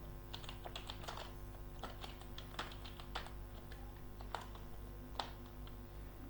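Someone types on a computer keyboard in Microsoft Word 2007, producing a quiet, irregular patter of close key clicks with a few sharper taps, with no talking.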